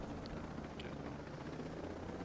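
A helicopter in the video game Ghost Recon Breakpoint gives a low, steady rotor rumble, faint and unbroken, with a few soft game sounds over it.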